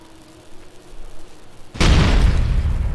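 Gunfire in the video game Fallout: New Vegas starts as a sudden loud burst of booming, sustained explosive noise that follows a quieter stretch of low rumbling.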